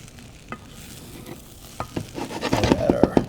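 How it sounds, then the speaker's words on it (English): Basmati rice stirred in a hot pot for a kafta and sanieh dinner, with a soft scraping sizzle that builds from quiet into a closer, louder run of rhythmic scrapes and clicks near the end. "I'm gonna just stir this in real fast, just like that"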